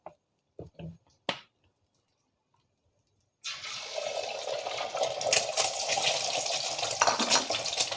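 Cooking oil poured into a hot wok while making Thai basil pork with fried egg: a few faint taps, then a sudden loud, steady sizzle and crackle that carries on to the end.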